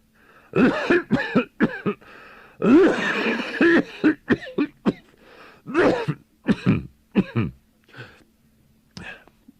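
A person coughs in a series of harsh, hacking bursts, some drawn out and some short, close and loud, with throat-clearing and wheezy breaths between fits.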